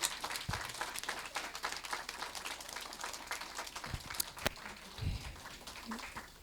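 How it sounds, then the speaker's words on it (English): At a school Spanish festival, the audience gives a round of applause that sounds like a scattered, moderately distant patter of clapping, with faint movement and murmur mixed in. "Let's give a round of applause for everyone on today."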